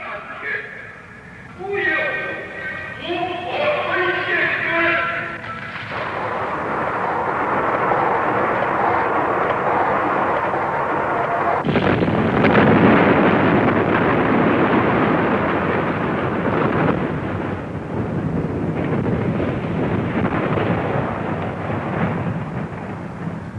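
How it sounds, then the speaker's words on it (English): China's first nuclear weapon detonates, a 1960s test, as a deep, sustained roar. It swells midway and rolls on as a loud, broad rumble under a narrator's voice. "Yet in 1963, without Russian help, China detonated her first nuclear weapon."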